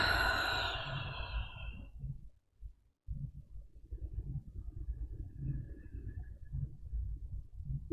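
One slow, breathy exhale during a gentle yoga class, fading over about two seconds, followed by quiet low rumbling room noise.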